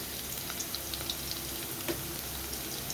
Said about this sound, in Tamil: காரத்துக்கு ஏற்ற மாதிரி கொஞ்சம் பச்சை மிளகு, நல்லா பொரிஞ்சு வரட்டும்